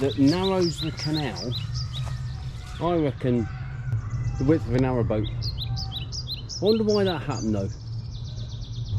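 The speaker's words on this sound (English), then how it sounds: "You can hear the birds tweeting." Small birds tweet and chirp in bursts in woodland beside a canal under restoration at Wendover, the calls fairly faint behind someone talking close up.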